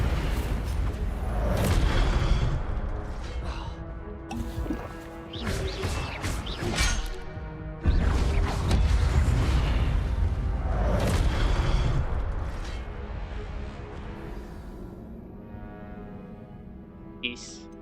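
Incendio fire spell cast in Hogwarts Legacy, heard as bursts of whooshing, crackling flame and impact booms repeating through combat, with a voice calling out over them.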